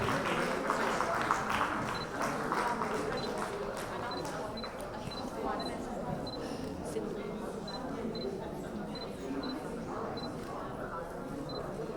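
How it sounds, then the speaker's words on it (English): Sustained applause from a large audience at a medical nutrition conference at ITC Gardenia, Bengaluru, a steady dense clatter of clapping that fills the room throughout, with camera shutter clicks popping through. "Let's have a big round of applause for all of them."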